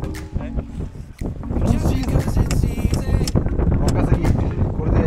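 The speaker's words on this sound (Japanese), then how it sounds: "これから風吹くよって言うと、吹いてるめちゃくちゃ吹いてますね" Strong wind roars and buffets the microphone at an outdoor wakasagi smelt fishing spot in spring, loud and continuous, with people talking underneath.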